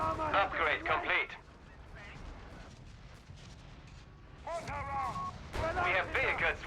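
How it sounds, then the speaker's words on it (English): Mortar rounds landing in a Company of Heroes 3 match, a few dull booming impacts under steady commentary that talks over most of the clip. "Mortar rounds coming down."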